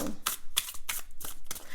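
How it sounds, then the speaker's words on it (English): Tarot cards being shuffled by hand in a run of quick, crisp riffling bursts, close and fairly soft, repeating at a steady rhythm with no talking. "Let's begin shuffling these cards."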